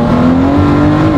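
Ford GT with a twin-turbo V6 accelerating hard, a loud, continuous engine drone with a steadily rising pitch, heard from close inside the car.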